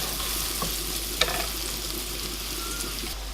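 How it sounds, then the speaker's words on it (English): Leeks and garlic sweating in a pan of oil and butter, giving a steady, soft sizzle throughout with a brief clink of utensil partway through. "leeks are on, sweating down with the garlic"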